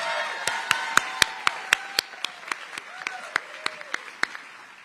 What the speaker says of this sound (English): I think they need another round of applause.